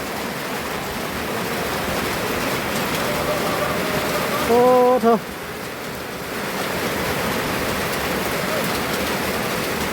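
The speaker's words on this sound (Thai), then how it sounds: "ฝนเนาะ" Heavy storm rain pours down in a loud, unbroken roar from start to finish, while a voice briefly exclaims once partway through.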